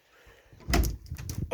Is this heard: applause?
no